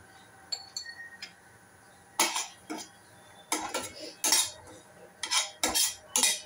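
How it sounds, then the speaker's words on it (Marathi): Green peas being sautéed and mixed in a pan for methi matar malai, heard as a series of sharp metal spoon scrapes and clinks against the pan, coming in irregular bursts close to the microphone with no talking. "ग्रीन मटर पण घालते, वाटाणे घालते आणि सगळं सॉट करून मिक्स करून घेते."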